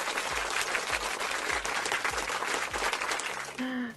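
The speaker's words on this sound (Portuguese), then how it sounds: "Deixa eu bater palmas pra Bel." A small group claps for a few seconds, a steady patter of applause at moderate distance that ends with a brief tonal sound.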